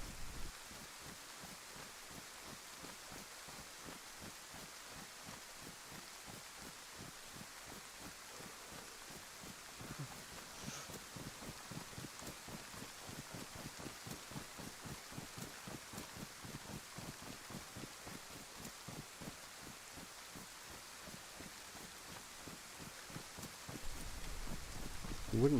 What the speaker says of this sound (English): let's enjoy some peaceful rain sounds